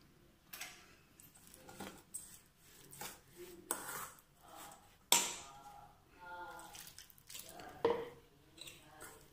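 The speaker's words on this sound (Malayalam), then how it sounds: "അത് നമുക്കിതിലേക്ക് കുറേശ്ശെ ഒഴിച്ചിട്ട് ഒന്ന് കുഴച്ചെടുക്കാം" Warm salted water is poured into rice flour and the dough is kneaded by hand in a bowl, heard as soft squishes, drips and scattered clinks of utensils against a dish, with some quiet speech between.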